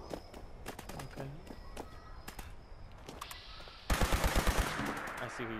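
Fallout 76 video game gunfire: sharp scattered shots, then a loud rapid automatic burst that continues close by through the end.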